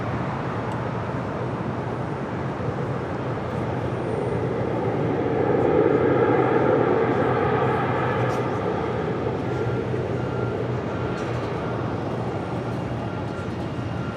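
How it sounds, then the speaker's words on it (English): Air Premia Boeing 787-9 Dreamliner heavy jet landing at LAX on the north side after a flight from Seoul; a broad, distant roar swells midway through and then eases back into a steady rumble. "Next, heavy arrival on the north side. Air Premia, flight 101, coming in from Seoul"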